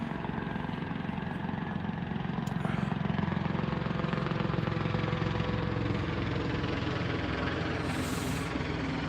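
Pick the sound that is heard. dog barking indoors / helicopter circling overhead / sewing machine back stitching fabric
helicopter circling overhead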